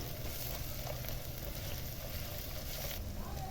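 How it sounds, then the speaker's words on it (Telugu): Onions frying in oil in a pan for kunda chicken after green chillies, a steady low sizzle and crackle running continuously and moderately quiet throughout. "ఆనియన్ ఆయిల్లో ఫ్రై అవ్వాలి"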